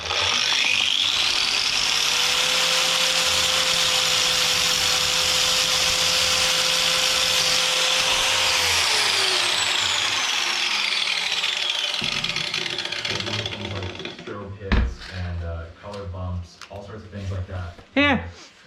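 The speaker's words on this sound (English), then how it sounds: "Now I'm just gonna do the cutting in the kitchen." Power tool cutting PVC indoors in a kitchen, a loud, sustained whirring cut whose pitch holds, then sags and winds down, followed by clattering handling sounds.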